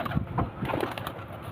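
A short burst of gentle pigeon coos, low and throaty, close by and unaccompanied by talk.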